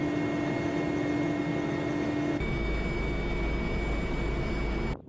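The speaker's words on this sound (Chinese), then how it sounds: "多型直升机乘战斗编组实施超低空掠海突防，向远海某陌生岛礁快速机动" Military attack helicopters in combat formation skim ultra-low over the sea off southern Fujian during an army aviation cross-sea assault drill, producing a loud, steady engine and rotor roar whose tone shifts abruptly midway and cuts off at the end.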